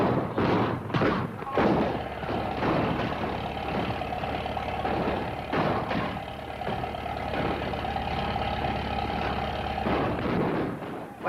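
Loud, heavy booms and thuds go off repeatedly over a rumbling, engine-like din, like cannon fire mixed with general racket close by.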